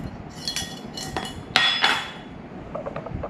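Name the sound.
pot of ginger and sugar stirred on stove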